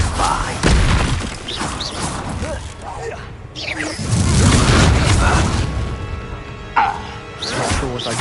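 A Confringo fire spell blasts in the Hogwarts Legacy video game, a loud booming explosion with crashing impacts amid dense game effects, followed by further whooshing blasts and a sharp hit near the end.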